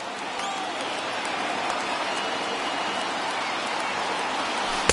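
Baseball video game stadium crowd of about 25,000 rising to its feet, a dense, steady roar of cheering and applause that holds evenly throughout, loud and close.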